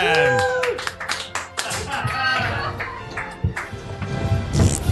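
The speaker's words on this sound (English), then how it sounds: "Ladies and gentlemen, a round of applause" An audience at a holiday variety show claps in a loud burst of applause that tapers and then swells again. A voice speaks over the clapping.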